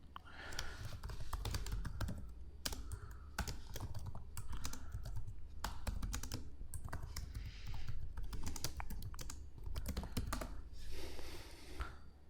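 Computer keyboard typed on in steady rapid clusters of close, crisp key clicks, entering DNS server addresses in Windows settings, with no voices.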